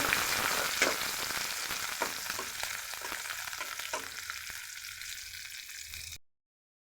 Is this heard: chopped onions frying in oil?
yes